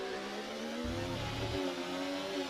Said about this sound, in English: just hear that Ferrari engine roar